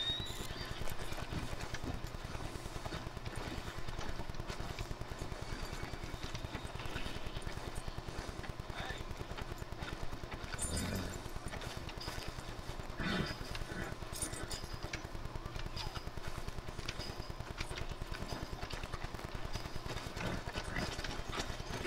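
Steady clip-clop of a horse's hooves in the Red Dead Redemption 2 video game, continuous and fairly loud over a dense background bed of ambient noise and music, with no talk.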